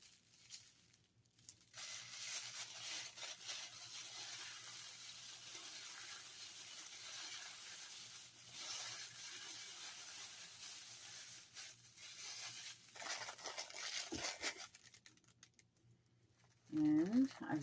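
A small piece of foil crinkles close to the mic in a long, dense, bright rustle, briefly stopping twice, before a short louder burst of voice near the end.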